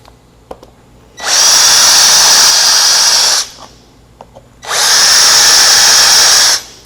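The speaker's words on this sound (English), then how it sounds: "Just make sure that it's going to line up with your router when you actually drill these holes." Power drill boring holes in a router sled plate: two long, loud bursts of high-pitched whirring, each lasting about two seconds, separated by a short quiet pause with faint handling clicks.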